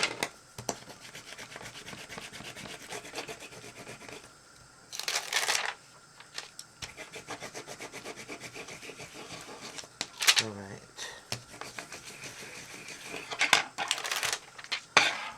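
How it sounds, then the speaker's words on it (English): Steady scratchy rubbing of a burnishing tool across paper on a journal cover, with a few louder scraping strokes, while someone briefly speaks. "now I'm going to take this, which has nothing on it, and just burnish"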